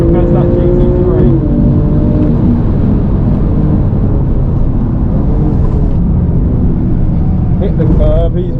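A Porsche 997 Carrera GTS accelerating hard on a race track, its engine note climbing in pitch and then holding a loud, sustained roar under heavy wind noise, with speech layered over the top.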